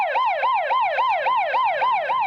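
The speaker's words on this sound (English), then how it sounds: "we don't need like a minute of the sirens" Emergency sirens wailing in a rapid, regular rising-and-falling cycle, loud and close, with about eight sweeps repeating without a break and no voices.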